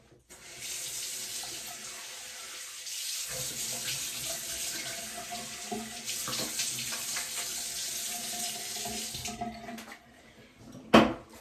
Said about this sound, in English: in the morning, I just rinse it with some water